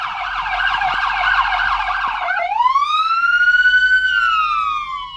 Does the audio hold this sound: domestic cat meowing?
no